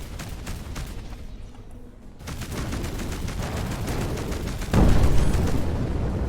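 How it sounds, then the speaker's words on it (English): A missile launch and explosion in the space game Between The Stars, heard as dense rumbling booms and gunfire-like bursts. A heavier surge near the end builds to a loud sustained roar. "Alright, we're lobbing out another missile."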